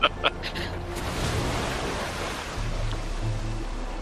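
A waterfall in a Planet Coaster theme park rushes in a steady broadband wash, continuous and fairly loud, after a couple of brief knocks at the start.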